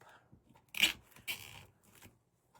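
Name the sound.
plastic zip tie being zipped up on a wreath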